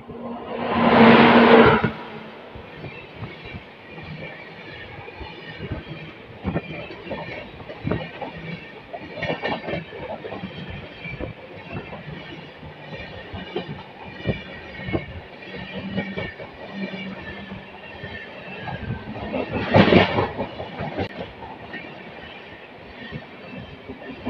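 A train passes on an Indian railway line with steady clickety-clack of wheels over rail joints and a rumbling carriage roll, plus loud horn blasts at the start and again near the end.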